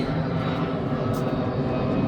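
A loud, steady roar of an airplane passing overhead at a farm in the Netherlands, a dense broadband rumble that stays constant through the whole moment with no other clear sounds.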